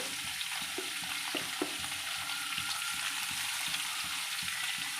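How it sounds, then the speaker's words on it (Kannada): Onions frying in oil over a high gas flame for a ridge gourd stir-fry, a steady dense sizzle with soft stirring scrapes and clicks throughout, close and fairly loud, no talking. "ಈರುಳ್ಳಿಯನ್ನು ಹಾಕುವಾಗ ಸ್ವಲ್ಪ ಗ್ಯಾಸನ್ನು ದೊಡ್ಡ ಉರಿಯಲ್ಲಿ ಇಡಬೇಕು"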